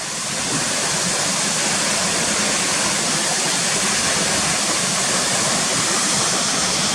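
Waterfall at Swinner Gill pouring over a series of drops and spreading into a horse's tail, a loud, steady, close roar of rushing white water with no break or voices.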